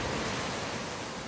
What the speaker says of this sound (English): We go behind the mystical waterfall.